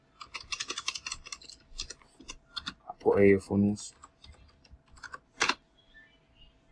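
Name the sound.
typing on a computer keyboard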